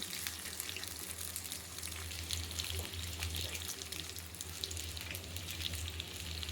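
Two handfuls of onion frying in hot oil with cloves and a piece of cinnamon, a close, continuous crackling sizzle with bright spattering pops and no one talking.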